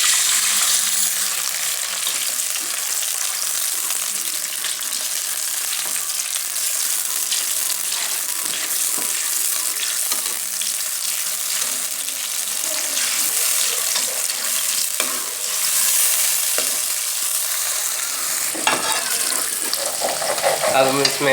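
Onions browned in a pan sizzle and crackle after ginger garlic paste is added, a steady close frying hiss with faint stirring scrapes, continuous and fairly loud throughout.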